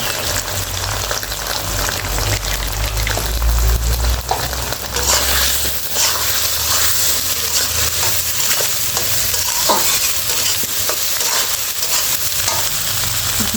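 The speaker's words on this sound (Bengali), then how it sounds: "মশলার সাথে সবজিগুলো ভালোভাবে কষে নিয়েছি" Vegetables sizzle and fry loudly with ginger, cumin paste, turmeric and chili powder in a pan, with continuous scraping and stirring throughout and no voices.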